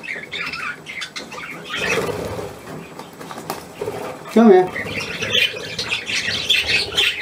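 A green finch squawks in close, harsh bursts around the middle, with other bird calls and wing flutters nearby while a person speaks softly over it.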